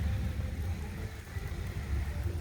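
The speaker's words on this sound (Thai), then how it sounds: "นี่คือบรรยากาศครับฝนตกครับบรรยากาศดีครับ" Steady rain falls outdoors at a fishing pond in Thailand, a dense and even hiss with a low rumble underneath and no clear individual drops, continuous for the whole stretch.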